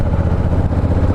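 A Honda Africa Twin motorcycle engine rumbles steadily up close, a loud, low, continuous idle with a slight clatter and no voices.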